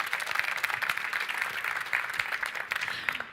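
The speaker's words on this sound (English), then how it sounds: "so you can applaud them" At a Citroën press conference at the 2017 Geneva motor show, the audience claps for a French music group, a brief, even stretch of moderate applause.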